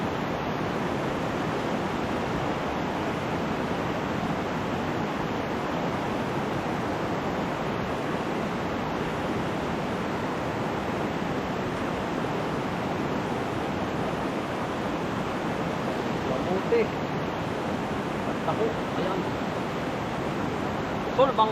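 A river flows steadily past a riverside, a continuous close rushing wash of water that stays even throughout, with a few faint clicks near the end.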